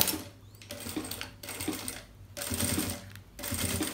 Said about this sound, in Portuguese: agora eu vinco e passo a costura aqui, rebatendo.